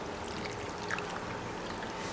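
Cold water from the fridge is poured into chopped cucumber for juice, a soft, steady, close trickle lasting about two seconds.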